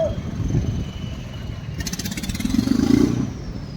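A tractor engine pulling away, a close, rough motor drone with a rattling, pulsing note that builds in loudness as it drives off.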